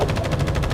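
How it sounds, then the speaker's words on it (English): Rapid, continuous automatic gunfire in the video game The First Descendant rattles steadily through the whole moment, loud and dense, with no pauses between bursts. "gunfire."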